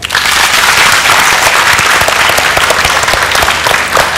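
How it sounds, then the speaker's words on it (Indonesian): Loud, dense applause from a studio audience on an Indonesian health talk show, sustained steadily for about four seconds with no pause. "beri tepuk tangan untuk Joe."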